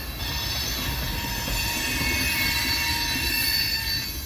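A BNSF freight train rolls steadily past, heading east on the Creston subdivision near Lincoln, Nebraska, with sustained loud wheel squeal and rail rumble throughout and no voices.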